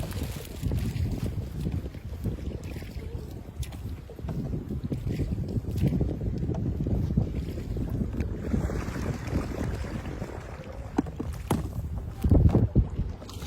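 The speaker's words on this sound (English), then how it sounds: "So Clarissa's just up there paddling away" Canoe paddled along on open water during a Thanksgiving camping trip, steady paddle strokes and water swishes under heavy wind buffeting on the microphone, fairly loud and continuous, no talking.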